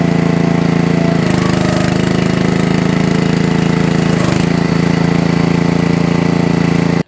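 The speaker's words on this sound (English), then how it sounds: "Switch our control over to run the log lift." Split Fire 2265 log splitter engine running steadily while the log lift is operated, a loud close drone with brief load dips around one and four seconds, no talk.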